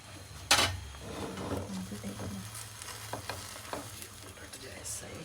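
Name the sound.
omelette wrap frying after a little oil is added on top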